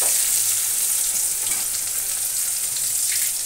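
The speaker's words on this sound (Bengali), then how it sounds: "আর সবজিটাও কিন্তু আমার ভাজা ভাজা হয়ে গেছে।" Vegetables sizzle steadily in a hot pan on a gas stove in a home kitchen, a continuous bright hiss with faint stirring, close and alone with no voices.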